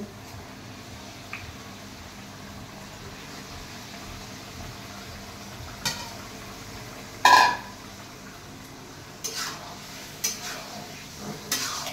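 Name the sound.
chicken added to fried spices and stirred in a pan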